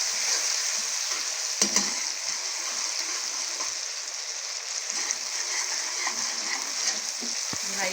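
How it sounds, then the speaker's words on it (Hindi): Garlic and ginger paste sautéing in a hot pan while chicken pulao is made, a steady close sizzle and crackle with a few sharp spatter pops, no talking. "2 से 3 मिनट इसकी भुनाई करेंगे, ताकि अदरक लहसुन की जो स्मेल है वो ख़त्म हो जाए"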